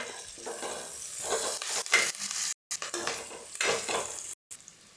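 Chopped onions, green chilies and curry leaves sauté in a pan for tomato rice, a crackling sizzle broken by scraping stirs and spatula clinks, with two brief dropouts to silence.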